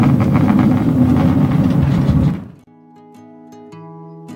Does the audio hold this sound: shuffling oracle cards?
no